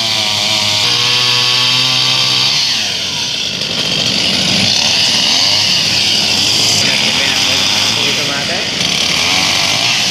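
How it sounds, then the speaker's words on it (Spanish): Chainsaws buzz and whine loudly while cutting down trees along Avenida Quebrada Seca, a continuous high-pitched engine drone with shifting pitch, under a speaking voice. "Escuchemos el sonido de las motosierras"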